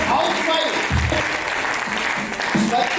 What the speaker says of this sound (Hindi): प्लीज एक बार जोरदार तालियां बजाएं नागालैंड से।